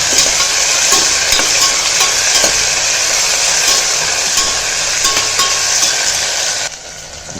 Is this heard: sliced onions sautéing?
yes